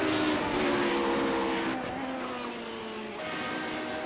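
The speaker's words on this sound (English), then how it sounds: "we'll try once again to get you through a lap of Silverstone in the Radical SR8" A Radical SR8 race car lapping Silverstone screams at high revs, close and loud, with the engine note rising through the gears, easing briefly, then climbing again. A faint tyre squeal comes in and no one talks.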